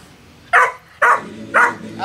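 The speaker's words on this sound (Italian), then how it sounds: "Abbaia!" A 100-day-old Dogo Sardo puppy barks on command, three short sharp barks spaced about half a second apart, close and loud against a quiet background.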